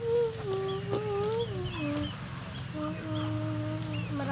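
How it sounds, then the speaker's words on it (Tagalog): Several chickens cluck and call in a farmyard in repeated short bursts, close and moderately loud, with a low background hum underneath. "Marami kaming manok dito"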